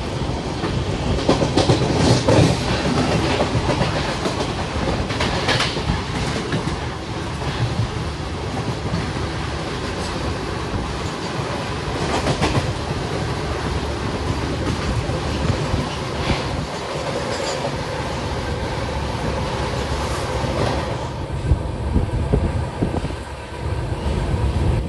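A Duronto Express runs on rails past Daund Chord Line railway station, giving a loud, sustained rumble with rhythmic clickety-clack of wheels over joints and some wind buffeting the microphone, with no talking.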